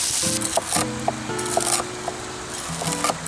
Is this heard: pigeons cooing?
no